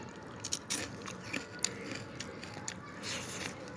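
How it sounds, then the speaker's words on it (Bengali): Someone bites into crispy fried fish eaten with khichuri, a few close, sharp crunches and chewing bites scattered over a few seconds, with no talk. "কামড় কুরকুরে মাছ ভাজি আর সঙ্গে খিচুড়ি।"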